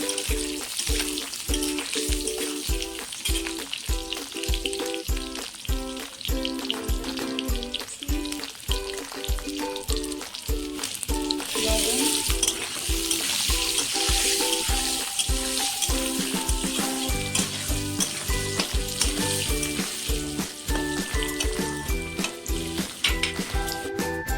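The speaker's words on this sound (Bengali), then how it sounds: "আমি আলুটা ভালো করে ভেজে নেব।" Potatoes fry in mustard oil in a pan with a loud, steady sizzling hiss and a dense, rhythmic crackle that continues without pause.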